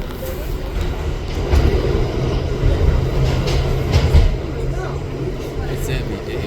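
A Manhattan-bound R68 D subway train rumbles along the track from Bay Parkway toward Atlantic, a loud steady interior roar with low rolling hum and faint rattles throughout.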